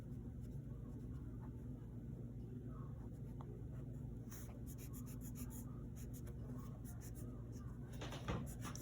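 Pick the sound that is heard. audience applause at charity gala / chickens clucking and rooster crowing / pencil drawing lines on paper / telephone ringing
pencil drawing lines on paper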